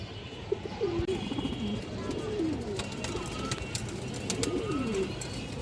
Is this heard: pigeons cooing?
yes